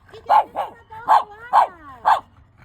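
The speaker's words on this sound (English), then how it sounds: "I'm training a 7-month-old pup" A 7-month-old puppy gives a series of about five sharp, close barks and yips in a quick, uneven rhythm, with a faint low hum behind them, in a public park.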